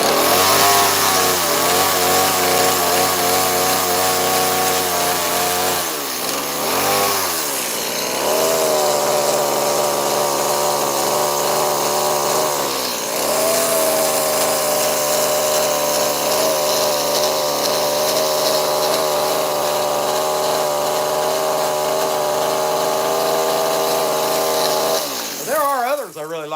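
A chainsaw carves a wooden blue heron, its engine droning loud and close, revving up and dropping back with several brief dips between cuts.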